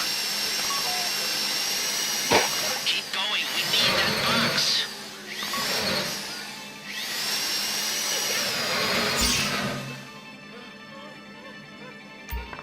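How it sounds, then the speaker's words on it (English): Several bursts of a whirring power drill in Grand Theft Auto V rise and fall, close and loud, with a voice speaking briefly between them. "If the drill burns out, this whole thing will take too long."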